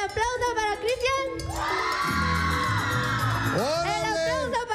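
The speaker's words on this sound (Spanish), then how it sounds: "Ahora, el aplauso para Cristian." A studio crowd roars with whoops and shouts in a sustained burst for a contestant on a comedy game show, with voices talking before and after the cheering.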